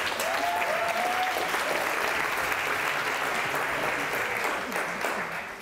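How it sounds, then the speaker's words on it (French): Audience applauding a contestant at an eloquence competition final, a full, steady round of clapping that holds for several seconds before easing slightly at the close. "Veuillez l'applaudir, s'il vous plaît"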